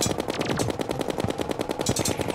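Sustained rapid gunfire in Terraria during a Skeletron Prime boss fight, a dense, evenly spaced stream of sharp shots at a fast, machine-gun rhythm, loud and close with no speech over it.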